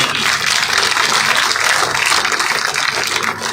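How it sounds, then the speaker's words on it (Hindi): A village rally crowd in Hasanpur claps loudly and continuously, a dense, even wash of applause without pause. "जोरदार तालियों के साथ आप लोग अभिनंदन करते रहे।"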